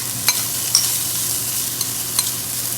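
Frozen grated coconut fries with shallots and garlic in a pan for a Malabar chicken curry, a steady close sizzle broken by a few sharp stirring scrapes and taps, with no talking.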